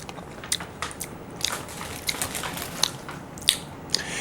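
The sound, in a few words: chewing sweetened dried fish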